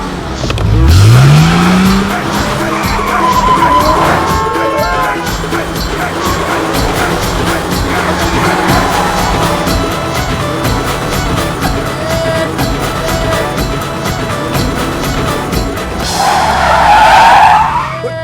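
A car is driven hard through a film action scene, its tires squealing loudly in a rising skid at the start and again near the end, with engine roar and music-like tones running throughout.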